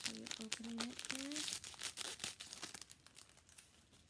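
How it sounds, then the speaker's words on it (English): Scissors cut open a plastic package from a jewelry subscription box, making close crinkling and tearing rustles that continue for several seconds, with a voice heard briefly at the start. "I'll use my scissors to open it."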